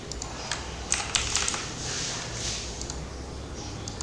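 Rapid clicks of typing on a computer keyboard while entering data, close and clear, in quick irregular bursts.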